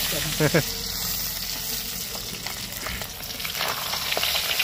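Small falui fish sizzle in hot oil as they are lifted out one by one, a close bubbling crackle with a spatula clink, and a brief voice at the start.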